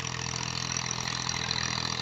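A 2000 Massey Ferguson 240 tractor with a nine-tine cultivator, in Punjab, Pakistan, runs steadily with a constant mid-pitched engine drone, close and loud, without speech.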